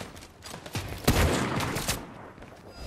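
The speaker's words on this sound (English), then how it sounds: "He's getting shot at right now." Video game gunfire during a duos match, a burst of several sharp shots clustered in the middle with a loud crack near one second, fairly close, followed by fading rumble and no talk.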